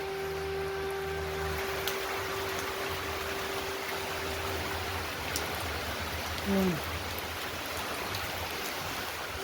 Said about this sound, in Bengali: এখনো অনেক বৃষ্টি পড়তেছে, অনেক বৃষ্টি পড়ে আছে।